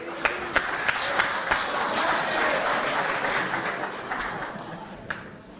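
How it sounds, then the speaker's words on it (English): Applause breaking out at a town meeting after a vote on an article fails, a dense wash of clapping with a few sharp individual claps near the start and end. "Can you guys please just kind of refrain from the applause?"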